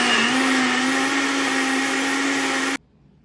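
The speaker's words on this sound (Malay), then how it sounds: "Katuk penutup dan blend lah sampai halus." A kitchen blender roars at a steady pitch for a few seconds blending a caramel pudding mixture, then abruptly switches off into near silence.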